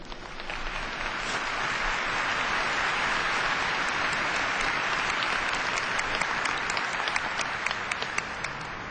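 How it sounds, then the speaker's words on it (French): Congregation at a solemn Epiphany Mass applauding the choir, a loud, sustained crowd applause that swells quickly and holds at full strength without speech. "on peut les applaudir."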